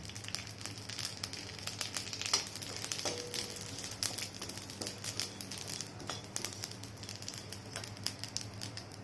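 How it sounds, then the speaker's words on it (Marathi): Cumin seeds roast in a little oil in a pan, giving a faint, continuous crackle and sizzle with scattered tiny pops, close and quiet. "आता आपण घेऊया जिरे पण थोडंसं तेल टाकून भाजून घेऊया."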